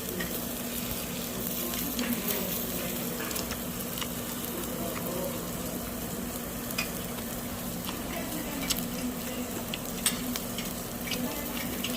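Meat grills over a coal briquette fire, giving a steady, continuous sizzle and crackle with a low hum beneath and occasional sharp pops, close and even throughout.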